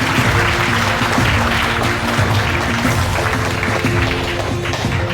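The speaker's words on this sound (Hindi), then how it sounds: "ताली बजाइए अपने शिक्षक के लिए।" Loud, sustained applause from a large crowd, steady and dense throughout without a break.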